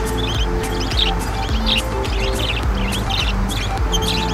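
Zebra finches at a busy pet market chirp in quick, repeated high tweets that scatter across the clip, over a steady low background hum.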